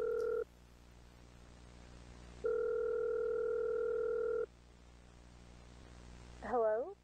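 A telephone call to the pizzeria in a Five Nights at Freddy's video, heard as two long, steady ringback tones with a pause between them. A short warbling electronic sound follows at the end, faint and isolated.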